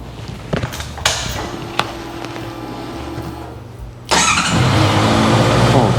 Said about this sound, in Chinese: 那接下来你把车子给发动看看好了